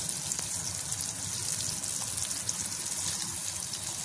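Bombay duck fish fries with garlic in a pan, giving a steady, close hissing sizzle that runs the whole time, with no voices over it.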